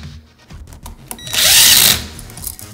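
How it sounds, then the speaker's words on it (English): A power drill drives brass screws into a standard electrical outlet, with short clicks and handling noise before a loud, steady whirring burst of about half a second. "go ahead and screw these brass screws in all the way so that they're not out where people can get them"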